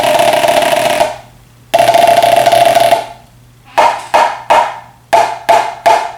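Drumsticks strike a Mylar marching practice pad. Two long, loud sustained rolls are followed by a run of single crisp strokes, close and alone with no voices.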